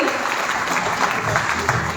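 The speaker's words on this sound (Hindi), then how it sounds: "एक बार जोरदार प्यार भरी तालियां हो जाए उनके लिए" A crowd applauds warmly at a conference of BC Sakhi women bank correspondents, a steady wash of clapping filling the hall at even volume with a faint voice under it.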